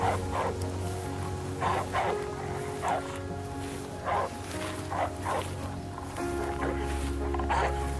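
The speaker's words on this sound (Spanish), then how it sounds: "La manada de perros salvajes se reunió a su alrededor, emitiendo suaves gemidos" Several short high-pitched whimpers and yips from African wild dogs repeat at irregular intervals over a steady low background hum.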